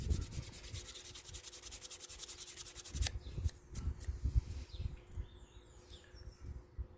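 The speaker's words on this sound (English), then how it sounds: "just giving these edges a little bit of a sanding just to tidy them up." Rhythmic rasping strokes of sanding leather edges, then irregular scraping, with faint birds chirping in the background.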